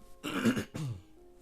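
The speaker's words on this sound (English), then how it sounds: "apologies for the coughing." A person clears their throat in two rough, close bursts, the second shorter, then quiet.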